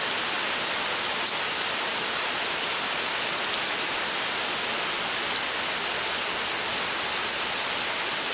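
Rain falling steadily, a dense, even hiss of drops on surfaces that runs unbroken and fairly loud throughout.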